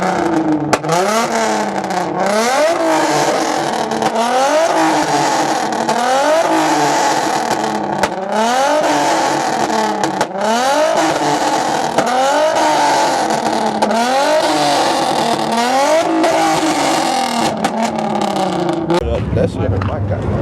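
A Dodge Hellcat revs hard at a car meet, its loud engine rising and falling in repeated rhythmic bursts close by, with people talking underneath.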